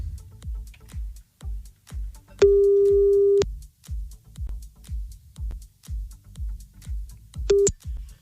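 Telephone line tones on a call to another number: a steady one-second beep and a shorter second beep over a rhythmic thumping backing beat, with no voices.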